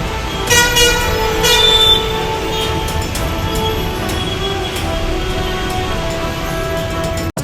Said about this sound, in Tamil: திருச்சி சென்னை தேசிய நெடுஞ்சாலையில் கடும் போக்குவரத்து நெரிசல் ஏற்பட்டது